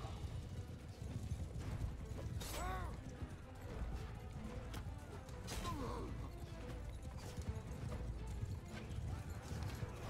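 Horses gallop in the video game Mount & Blade II: Bannerlord, a steady rush of hoofbeats with a couple of whinnies and clanking gear under a constant loud battle din, with voices mixed in.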